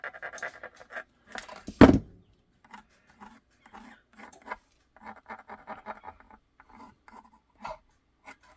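A pen drawing a line on holster material for a S&W M&P with TLR7, heard as short scratchy rubbing strokes in an irregular rhythm, close up, with one sharper louder knock near the start.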